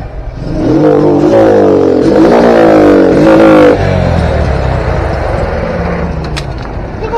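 A motorcycle engine with a freshly replaced carburetor and new spark plug runs roughly and close by, its revs rising and falling unevenly before dropping to a ragged, sputtering idle.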